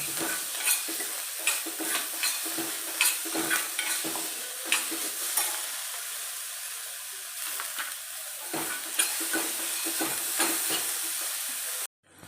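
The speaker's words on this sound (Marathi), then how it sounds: "आपण हे त्याच्यामध्ये सगळं परतून घ्या" Seed chutney ingredients with curry leaves are sautéed in a pan, giving a soft continuous sizzle broken by repeated scraping stir strokes of a spatula. The hissing is steady and close, with no speech, and it ends abruptly.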